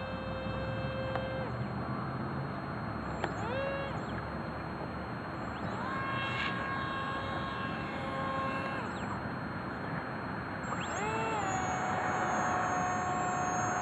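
A Sky Surfer radio-controlled model airplane flying overhead: a steady, faint electric-motor whine that rises and falls in pitch as it passes, over constant outdoor background noise.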